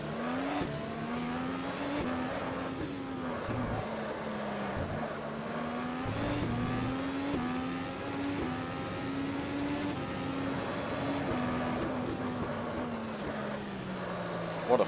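IndyCar race cars in the Automobilista sim racing game, high-pitched engines wailing and shifting through gears at an IndyCar Adelaide 200 event, with a commentator talking over the steady racing noise.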